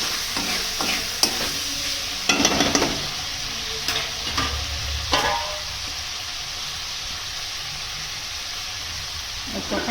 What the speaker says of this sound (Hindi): अब अपन इसको हिला देंगे और थोड़ी देर के लिए पका लेंगे ताकि जो टमाटर हमारे हैं वो पक जाएं।